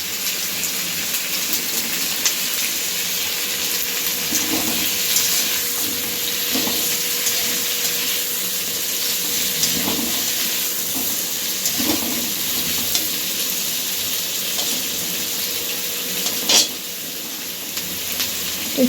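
Paneer and other pieces frying together in an oiled pan, with a steady broad sizzle and scattered scrapes and stirring taps, close and continuous throughout, no voices.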